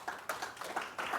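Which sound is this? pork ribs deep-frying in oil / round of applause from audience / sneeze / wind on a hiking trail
round of applause from audience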